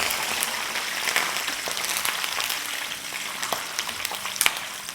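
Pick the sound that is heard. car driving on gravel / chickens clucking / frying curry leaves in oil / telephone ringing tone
frying curry leaves in oil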